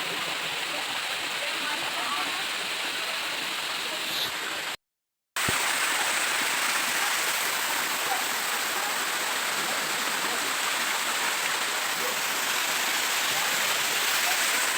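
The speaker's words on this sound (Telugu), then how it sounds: "ఫైనల్గా మేము అనుకున్న వాటర్ ఫాల్ వచ్చేసింది." A loud, constant roar of rushing water from a nearby waterfall, unbroken apart from a brief gap.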